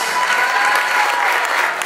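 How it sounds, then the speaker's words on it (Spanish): Loud, close applause from a crowd honoring pastry workshop participants at an entrepreneurship recognition ceremony, a thick continuous burst of clapping lasting just under two seconds. "un aplauso fuerte para todas ellas"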